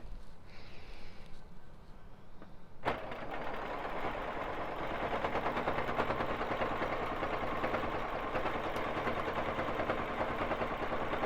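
A Baby Lock Jazz straight-stitch sewing machine does free motion quilting with Isacord thread. After a quiet start it whirs into a fast, steady mechanical hum with a rapid stitching rhythm that continues to the end.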